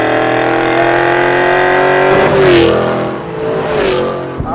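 Engine note of a 2011–2014 Mustang GT V8 fitted with an aggressive Borla ATAK exhaust, a loud steady growl that swells in revs near the middle and dips again, heard alone with no speech.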